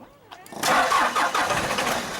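A Ford F350 Bullnose truck engine cranks briefly and then catches, roaring to life loudly and close by, settling into a rough steady run.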